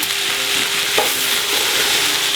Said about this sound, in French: Et je vais faire cuire le tout. On laisse suer les légumes tranquillement.